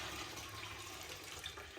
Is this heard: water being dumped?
yes